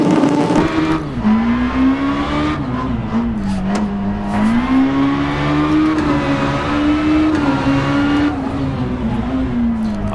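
Peugeot 306 Kit Car engine in Richard Burns Rally on a tarmac stage, revving hard and continuously, pitch rising and falling through gear changes, loud and close throughout.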